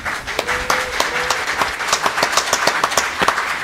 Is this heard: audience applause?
yes